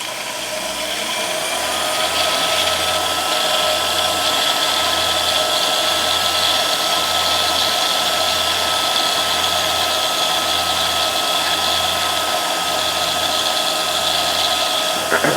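A belt-driven machine runs at 3,000 RPM with a steady, loud, even whir and a faint rhythmic pulse underneath, continuous with no breaks.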